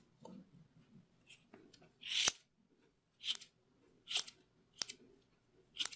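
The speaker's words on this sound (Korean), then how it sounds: "안쪽에도 얘가 숨어 있으니까 잘 잡아서 잘라주고 반대편도 똑같이 해줍니다" Scissors snip off crochet yarn ends on handmade retro-style crochet slippers in a quiet room: several short, crisp cuts spaced irregularly, close and clear, with no talking.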